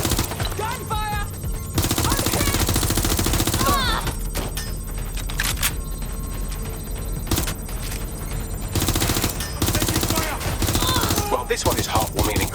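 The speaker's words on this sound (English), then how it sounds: "Gunfire!" Sustained automatic gunfire in the Watch Dogs video game, long rattling machine-gun volleys broken by short gaps, loud and close against a dense game background.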